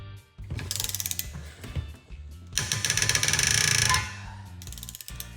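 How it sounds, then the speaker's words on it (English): Breaker bar ratcheting hard to loosen a seized outer tie rod end on a 2WD Toyota pickup, the rod clamped in a vise: rapid loud metallic clicking bursts repeating close up, with short pauses between strokes. "So I used the breaker bar."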